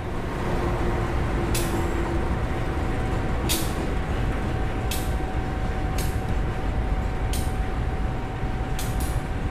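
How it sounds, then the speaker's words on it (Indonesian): An empty container freight train rolls into an Indonesian railway station with a steady, loud low rumble. A faint tone hums underneath, and about six sharp hissing bursts, like air brakes releasing, stand out against it at intervals. "itu dia yang masuk adalah kereta kontainer, tapi ini itu lagi kosongan, nggak membawa muatan"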